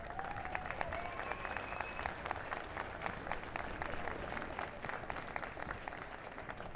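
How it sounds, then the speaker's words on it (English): Sustained audience applause at an IDC competition event, dense and steady clapping from a crowd filling the whole stretch, with a faint tonal whistle riding over it early on. "Give them a huge round of applause"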